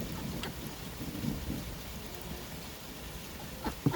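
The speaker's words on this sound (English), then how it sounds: "It's just raining" Rain falls steadily outdoors, a soft continuous hiss with a few louder drops and patters near the end, no voices.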